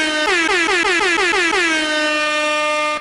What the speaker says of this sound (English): And honking of a horn.